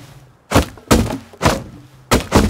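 Heavy repeated blows strike a hatch in Rust as it is beaten and broken open: five loud, hollow thunks land alone at uneven intervals, close and forceful.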